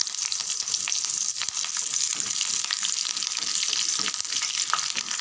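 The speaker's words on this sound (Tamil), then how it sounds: "இந்த எண்ணெய் சூட்லேயே பொரிஞ்சிடும்." Dry red chilies and chana dal crackle and sizzle in hot oil in a pan after the stove is switched off, a constant bright frying hiss with small pops and occasional stirring clinks, no voices.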